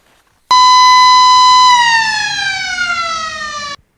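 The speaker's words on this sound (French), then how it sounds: "Au son de la sirène" A loud electronic siren blares, holding one steady tone, then sliding slowly downward in pitch before cutting off abruptly.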